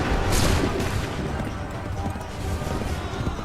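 A volley of musket fire from a line of soldiers in Assassin's Creed III, a dense, loud burst of overlapping shots with booming rumble that gradually fades, no voices over it.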